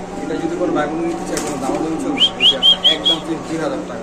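Pigeons offered for sale at a market, including black Lahori and Pakistani teddy birds, call among steady crowd chatter and a voice, with a short series of five clear whistling notes near the end.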